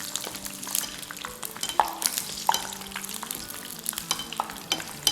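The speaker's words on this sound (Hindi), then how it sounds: "ऑल टुगेदर 4-5 मिनट फ्राई करेंगे।" Katori pakoras deep-fry in hot oil with a busy, crackling bubble and sizzle, close by, punctuated by frequent light clicks and pops as oil is spooned over them.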